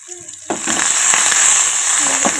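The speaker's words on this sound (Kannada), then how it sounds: "ಚಂದಾಗಿ ಹುರ್ಕೋಬೇಕ್ರಿ ಕಮ್ಮಗಾಗಿ. ಹುರ್ಲಿಕತ್ತೋಳ್ರಿ." Coriander, ginger and garlic paste sizzles in a hot pan, with a steady close frying hiss and faint stirring scrapes after a brief quieter start.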